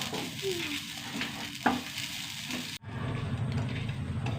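Grated coconut roasts in a hot pan with curry leaves, a steady dry sizzle and stirring, then an abrupt cut to a louder, rougher frying texture.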